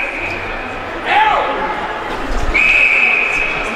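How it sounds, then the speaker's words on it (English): Referee's whistle at a high school varsity hockey playoff game in a rink, sounding in two short shrill blasts, a brief one early and a longer one near the end, over crowd murmur and a commentator's voice. "And another whistle."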